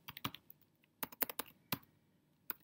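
Typing on a computer keyboard while entering social media links into a personal website, heard as quiet irregular bursts of key clicks with short pauses between clusters, no talking.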